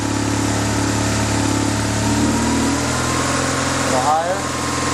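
A BMW R motorcycle engine running just above idle, a steady close, loud drone with a brief pitch wobble near the end, with a voice talking over it.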